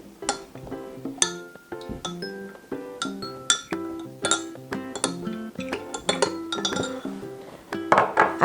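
Waffle batter being stirred in a glass bowl gives repeated bright clinks and taps of a utensil against the glass, irregular and close, with no talking.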